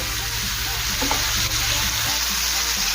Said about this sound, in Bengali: সব কিছু ভালোভাবে নেড়েচেড়ে মিশিয়ে নেব, আর গ্যাসের ফ্লেম মিডিয়াম টু হাই রেখে 2 থেকে 3 মিনিটের জন্য একটু কষিয়ে নেব